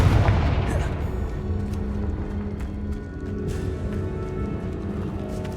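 Confringo fire-blast spell going off in Hogwarts Legacy: a loud low boom at the start that rolls into a long rumbling decay, with game ambience continuing underneath.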